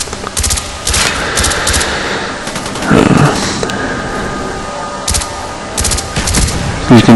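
Rapid gunfire from the video game Black Ops in a Domination match, sharp bursts of automatic fire repeating in clusters throughout, with a louder heavier blast in the middle and more shots near the end.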